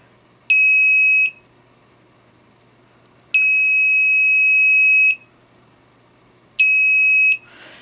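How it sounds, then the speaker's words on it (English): A piezo buzzer gives three loud, steady high-pitched buzzes separated by silent pauses: the first short, the second longer, the third short again. "it emits a loud buzzer, a buzzing sound rather"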